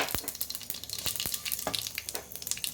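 Curry leaves drop into hot oil for a tempering, crackling and sizzling steadily with sharp pops throughout, close and fairly loud, with no voices.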